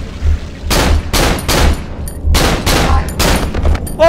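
Bursts of rapid gunfire from Cry Of Fear, a horror video game, crackle loud and close in repeated volleys with brief gaps between them, no talking.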